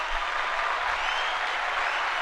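A small group bursts into brisk, even clapping in celebration of great movies, the sound loud and continuous with no voices over it.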